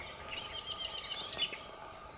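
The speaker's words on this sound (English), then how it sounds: "the continual bird song" Continuous high-pitched bird song with overlapping chirps and trills, steady and fairly faint, like a chorus of small birds outdoors.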